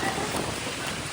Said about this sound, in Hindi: अभी भी बहुत बारिश हो रही है और ठंडी भी हो गई है.